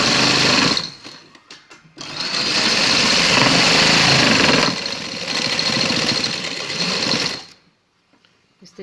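A sewing machine stitches a borderless design onto a shirt side slit, running loudly in a short burst, then a long steady whir of several seconds, then a slightly softer run before stopping, close up and with no talk.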